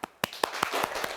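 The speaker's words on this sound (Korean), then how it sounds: "큰 박수로 맞이해볼까요?" A handful of sharp, quick hand claps welcome a lecturer to a talk, sounding close and clear over a short stretch, with a softer wash of clapping between the beats.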